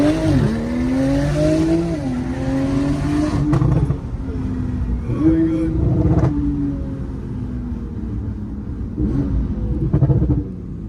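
A 750hp Porsche Turbo S engine revs hard while drifting, loud rising and falling engine whine with rumbling exhaust, tyre squeal and a few sharp cracks, close and continuous, with no talking.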